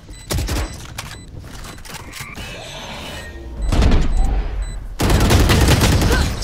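Gunfire in the tactical shooter Valorant: sharp bursts of rapid shots and single cracks, loud and close, separated by brief quieter gaps with faint game sounds.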